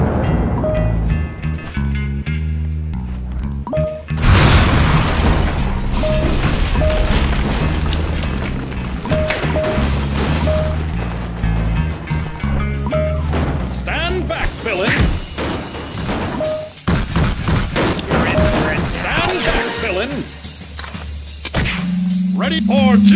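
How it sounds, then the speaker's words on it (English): A building exploding in the superhero game Freedom Force, a loud, sustained booming rumble with heavy thuds and crashing debris, mixed with game music and voices talking throughout. "I bet he can't survive an exploding building."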